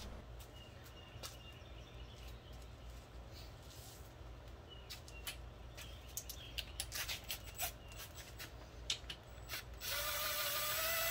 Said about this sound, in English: The top one is easy to remove with about any ratchet.